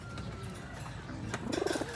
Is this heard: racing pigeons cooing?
yes